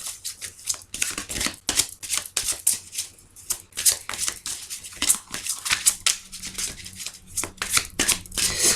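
Tarot cards are shuffled by hand before a reading, a close run of quick papery riffles and slaps in uneven bursts with brief pauses, no voices.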